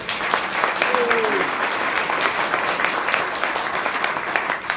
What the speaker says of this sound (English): Would you please give her another applause?